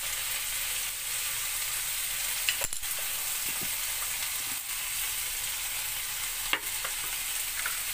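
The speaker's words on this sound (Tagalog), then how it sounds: "Haluin natin" Sautéed bitter gourd for Filipino ginisang ampalaya sizzles steadily in a frying pan, a close continuous hiss with a few sharp scrapes and clinks as it is stirred, no voices.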